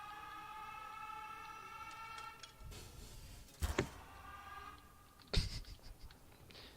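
An air raid siren in a tornado survival video game wails in a steady, rising tone, then gives way to sudden loud crashing bursts.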